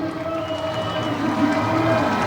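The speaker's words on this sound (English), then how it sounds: "Crowd in the peanut gallery loving that one." A crowd cheers and roars at a 2022 monster truck show in Salisbury, a dense, steady wall of voices from the stands that swells slightly toward the end.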